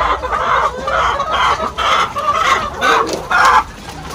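Black Australorp chickens cluck loudly and continuously on a farm, a dense close chorus of overlapping hen calls with no talking.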